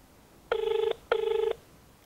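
A telephone on loudspeaker rings twice, with two short, bright electronic ring bursts separated by a brief pause and heard close and clear against a quiet background.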